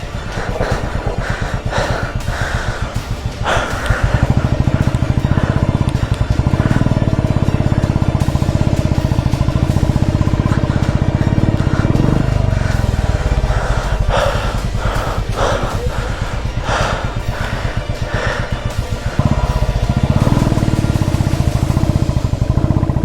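A motorcycle engine throbs loudly and steadily while the bike sits stuck in sand on an uphill off-road track between Pangong and Hanle in Ladakh, with rises in revving partway through and heavy breathing over it.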